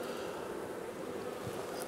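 Honey bees crawl over hive frames during queen rearing, giving off a steady, soft, continuous buzz that stays faint and even throughout, with no voices.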